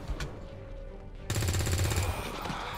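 XCOM 2 game gunfire, a quiet stretch broken by a sudden rapid burst of automatic shots that rattles loudly to the end.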